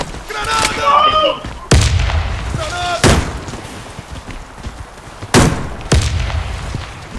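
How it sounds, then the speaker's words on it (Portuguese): Several heavy booms in the video game Warface go off in a team match: sharp, loud blasts at irregular intervals with decaying rumbles, a couple of them close, with players talking between and over them. "Granada! Granada vindo do plant."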